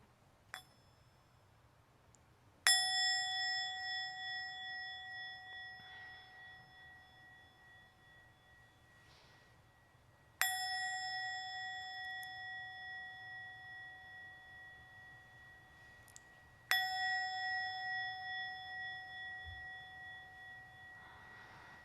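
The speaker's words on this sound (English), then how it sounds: "We'll start our practice with 3 sounds of my little portable bell." A small portable bell is struck three times, several seconds apart. Each strike rings out clear and close, then its pure metallic tone hums and slowly decays into a quiet room.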